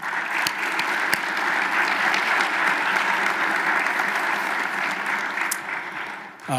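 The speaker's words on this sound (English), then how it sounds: "Let's give a round of applause to all those supporters." An audience at an awards gala breaks into a round of applause, dense steady clapping with a few sharp individual claps, continuing for several seconds before tapering off.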